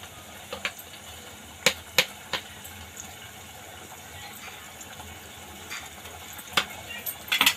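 Spices with onion-garlic masala frying in oil for egg masala: a low, steady sizzle with occasional sharp clinks and scrapes of a spoon stirring the pan, with some speech.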